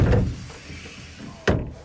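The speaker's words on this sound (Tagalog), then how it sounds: "itong pintuan niya, ito, pwede itong isara" A caravan door swings shut with one solid, close thunk about halfway through, following a softer knock at the start over a quiet room background.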